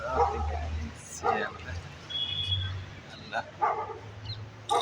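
A dog in a small park gives short yips and whimpering barks in a few bursts, mixed with nearby talk and outdoor background noise.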